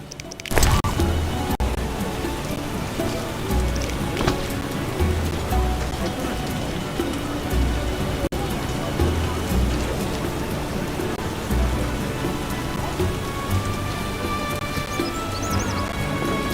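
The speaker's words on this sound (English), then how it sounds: "I was sure it wouldn't rain." Rain pours steadily and evenly in the video game The Witcher Enhanced Edition, with faint low rumbles of thunder rolling underneath and a sharp crack at the very start.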